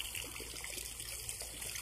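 Water trickling and flowing out into a lake near a bank, a faint, steady stream of gurgling over quiet outdoor background.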